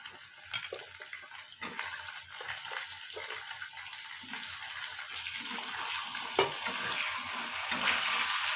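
Potato pieces and vegetable stalks fry in a pan on a medium gas flame, giving a steady soft sizzle and crackle with a few louder stirring scrapes and clatters, no voices.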